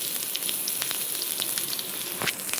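Onion, garlic, ginger and curry leaves frying in a pan for wild mango pulimunchi, a steady close hiss and crackle of sizzling oil with small pops throughout, no talking.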